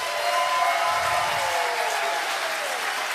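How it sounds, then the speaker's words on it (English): An audience applauds in a church service, a loud, dense, continuous burst of many hands clapping together that fills the whole stretch, with a faint voice just audible beneath it. "So why don't you give these people that have joined just a big clap"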